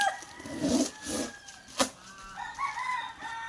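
Gamefowl roosters, a trio of Pure Bosso Rounded birds from ES Matrix Game Farm, crow and cluck nearby, with a sharp crow burst and several shorter calls over faint background noise.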